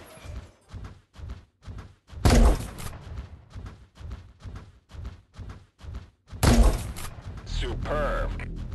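Gunfire during a WWR match rings out as a steady rhythm of sharp shots, with two heavier, louder blasts among them. A voice comes over the firing near the end.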